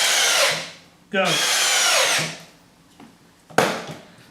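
Milwaukee and Bosch drill/drivers whine at full speed in a head-to-head race, two loud sustained bursts that spin down, then a sharp restart near the end, with a brief spoken word between runs.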